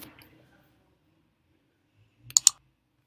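Two quick computer mouse clicks while working in Photoshop CC 2017, sharp and close together near the end after a brief bit of faint talk and a long quiet stretch.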